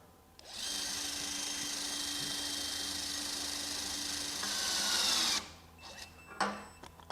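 A Kobalt 24V KWC 5024B-03 half-inch compact impact wrench set to 100 foot-pounds runs in one sustained whirring, rattling burst of about five seconds, close and steady, then stops, followed by a few faint clicks.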